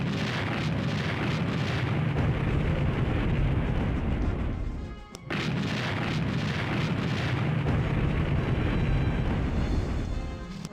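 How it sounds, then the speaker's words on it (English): An artillery bombardment in a WWII strategy video game set during the opening of Operation Barbarossa makes a dense, continuous roar of booms and rumbling that breaks briefly once before resuming at full strength. "Just begin the bombardment."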